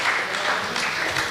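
A short burst of steady crowd applause at a startup pitch competition, a dense wash of clapping hands from an audience.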